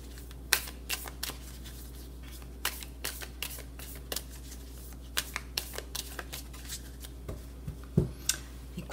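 Tarot cards being shuffled for a reading, a steady series of quick riffling flicks and slaps, close and clear over a low steady hum, with no voices.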